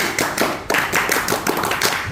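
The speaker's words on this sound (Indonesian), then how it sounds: "Tepuk pramuka dulu ya." A group performs a rhythmic scout-style clap, sharp hand claps in quick patterned bursts with brief pauses between them, close and lively in an indoor gathering.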